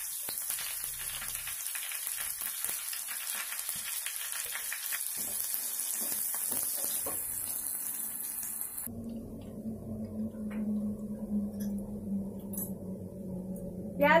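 Onion dropped into hot oil with garlic sizzles in a pan for matar paneer, a steady crackling fry with a noticeable shift in texture partway through as the onion goes in; no talking.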